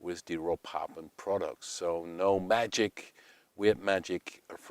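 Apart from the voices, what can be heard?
No everyday noises stand out.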